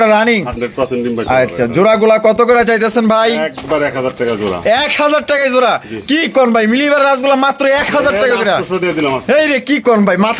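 Pigeons coo at a market stall while people talk loudly over them almost throughout, the birds' low murmuring mixed beneath the voices.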